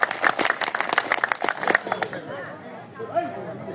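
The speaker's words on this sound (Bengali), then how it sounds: "আমরা কবির মাহমুদের মানুষ মুস্তফা ভাইকে করতালির মধ্য দিয়ে স্বাগত জানাতে চাই।" A crowd applauds at a political gathering in Fulbari, dense rapid clapping for about two seconds that then fades into murmuring voices and chatter nearby.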